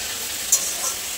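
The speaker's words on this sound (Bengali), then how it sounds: "সেই কড়াইতে শাক দিয়েছি, শাক ভাজবো" Water spinach fries in a wok, a soft, steady sizzle close by, with a few faint clicks of stirring and no talk.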